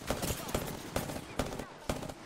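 Gunshots in the Apex Legends video game, four sharp reports spaced about half a second apart over continuous game noise, fairly close and loud.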